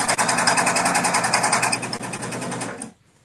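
A sewing machine stitches a fabric rainbow weave placemat, a loud close rapid whirring hum that runs steadily for nearly three seconds, then stops abruptly.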